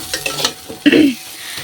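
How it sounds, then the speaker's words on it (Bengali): Onion and dried chili fry in hot oil in a wok, with a few scraping stirs and clinks of a spatula followed by a sudden close burst of sizzling that fades within half a second. "এখন একটু কড়াইতে ভেজে নিচ্ছি"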